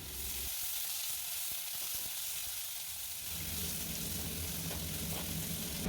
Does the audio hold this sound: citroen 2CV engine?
no